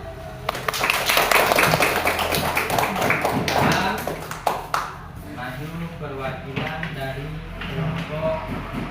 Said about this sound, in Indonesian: Mari kawan-kawan tepuk tangan.